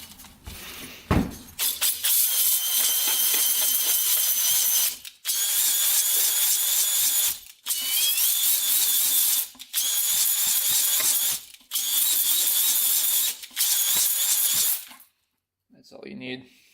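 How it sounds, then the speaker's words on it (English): Drill-driven hone lightly passing through a Yamaha Warrior engine cylinder: about six bursts of high whirring, rattling grind, each a couple of seconds long, separated by short pauses, loud and close. "I'm just going to lightly hone the cylinder, just a couple passes."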